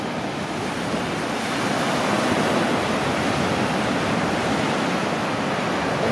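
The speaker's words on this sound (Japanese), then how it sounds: "こんな感じの波があってます。" Ocean surf breaking steadily at a winter beach on a clear, freezing day, a continuous broadband wash of waves rolling in, loud and close, with some wind noise and no voices.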